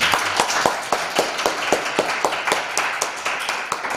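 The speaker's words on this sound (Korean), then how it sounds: "박수해 주시기 바랍니다." A church congregation at a Sunday worship service in Jeju claps together, with sharp hand claps in a fairly regular rhythm, near and lively, with no talking over it.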